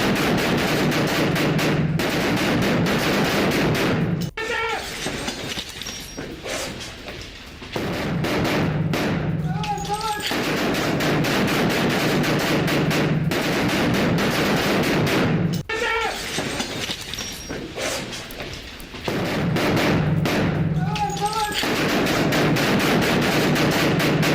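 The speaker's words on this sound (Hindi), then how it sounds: "फायरिंग करते हुए रूसी सेना ने इमारत को कैसे खाली कराया, देखिए।" Bursts of gunfire crackle over a loud, continuous noisy background, with rapid shots clustered in a few spells across the stretch.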